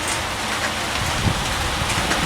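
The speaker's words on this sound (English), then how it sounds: "decently raining, if you can hear" Steady rain falls close by in a dense, continuous hiss with no talking.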